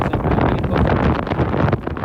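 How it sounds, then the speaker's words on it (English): Strong gusty wind buffeting the microphone near a lighthouse on a cold day, a loud, rumbling roar with no other sounds. "as I'm walking right here, it's very cold and windy"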